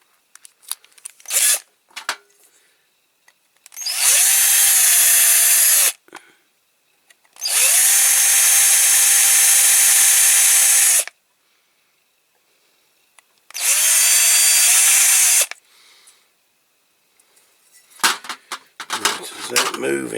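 A power drill whines in three sustained runs of several seconds each, loud and close, drilling out a rivet on a Matchbox King Size Hoveringham tipper toy, with brief clicks and handling noises between.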